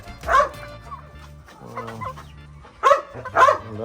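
Brahma chickens cluck and squawk nearby in short bursts, with a few louder calls near the start and end.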